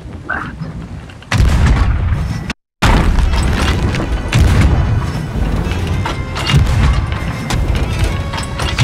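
Heavy ship cannon fire in Sea of Thieves, a string of loud booming shots with rumbling tails filling the stretch, broken by one brief silent gap.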